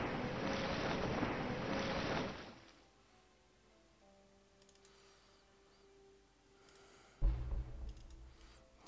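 Game ship sailing across the sea in Civilization III: a loud rush of waves and wind, then a sudden fade to quiet with faint tones, followed by a brief low swell near the end.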